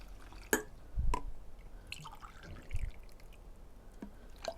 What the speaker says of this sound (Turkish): buna da bir çay bardağı sirke ilave ediyorum